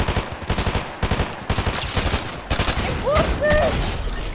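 Rapid bursts of video game gunfire while shooting rats, loud and repetitive, with a short pause between volleys and a few brief electronic tones near the end.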